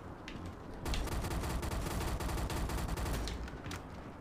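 Sustained rapid gunfire from a video game rattles on for several seconds, loud and dense, starting after a brief lead-in and fading slightly at the end, with no talking over it.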